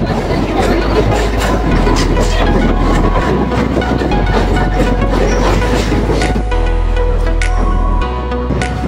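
A Kolkata local train runs along the Ganges riverside near the dock area, with a loud, steady rumble and rattle of the carriages, a low drone underneath, and crowd chatter mixed into the noise.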